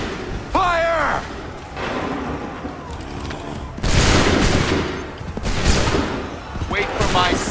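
Musket volleys crack out in the Assassin's Creed III video game, heard as several loud, dense bursts of gunfire spread through the clip. Shouted commands are heard between the volleys.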